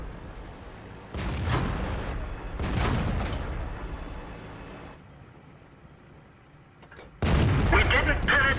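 Tank cannons fire in a World of Tanks battle involving a Tiger II, with heavy booming blasts and crashing impacts, several shots separated by quieter rumbling gaps, loud and close.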